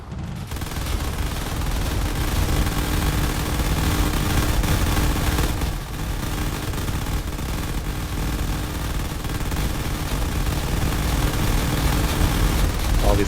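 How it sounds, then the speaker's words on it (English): Turrets fire steadily at incoming fighters in the space combat game Drone Wars, a dense, continuous barrage of rapid gunfire and explosions that stays loud throughout with no pauses. "All these turrets are working overtime to try to take out as many fighters as possible."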